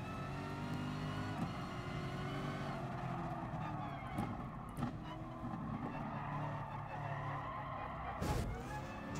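Tyres skid and squeal steadily over a loud, continuous engine drone during a Gran Turismo Sport FIA online race, with brief bursts of heavier scrubbing near the end.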